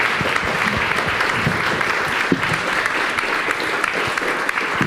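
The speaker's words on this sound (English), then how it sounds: "I would like to ask you for applause for our guests." An audience at a cultural forum panel applauds its guests, a dense, steady clapping that carries on throughout without a break.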